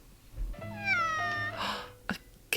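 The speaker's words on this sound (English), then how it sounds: "A cat. It's a fun cat." A cat in a film set in a Hollywood apartment gives a clear, drawn-out meow that rises and falls, followed by a short breathy sound and a couple of brief knocks, with no talking over it.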